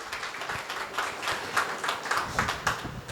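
Guests and students at a school function applaud an arriving dignitary, the clapping soft and somewhat distant, coming in uneven bursts with a few sharper claps standing out.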